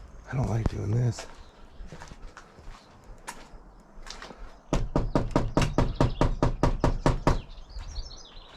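Knuckles rap on a wooden cabin door in sharp bursts, first a few scattered knocks and then a fast run of about a dozen hard raps, with someone speaking in between.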